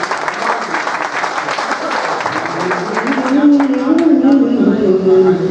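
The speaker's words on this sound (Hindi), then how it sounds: "बहुत बहुत मेरी महफिल एक बार जोरदार तालियां बजाएं" Audience at a mushaira poetry gathering breaks into loud, sustained applause, steady clapping filling the room alongside voices and murmurs.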